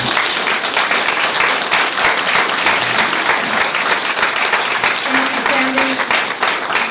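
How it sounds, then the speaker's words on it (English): An audience at a community event at Christina Lake claps loudly and steadily in a sustained round of applause, with a faint murmur of crowd noise underneath. "Big round of applause,"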